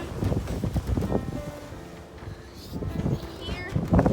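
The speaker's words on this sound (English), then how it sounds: "It's windy again." Wind gusts buffet the microphone outdoors beside a barbecue while homemade pizza cooks, with a low rumbling roar, while people talk over it in the foreground.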